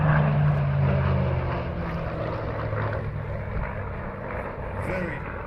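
A WW2 Supermarine Spitfire fighter flies over an air show, its steady propeller engine drone heard at a distance, gradually fading slightly, with someone talking over it throughout.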